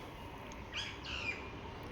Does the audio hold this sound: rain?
no